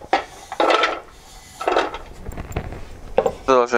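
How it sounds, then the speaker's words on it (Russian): Cut pumpkin pieces for pumpkin adjika tumble into a pot in a few quick clattering bursts, close and fairly loud, with small knocks against the pot between them. "всыпаем нашу тыкву"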